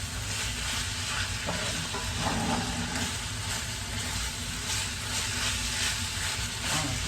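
Ground beef and black beans brown in a hot pan with a steady, close sizzle and hiss, while occasional stirring scrapes cut through. No one speaks.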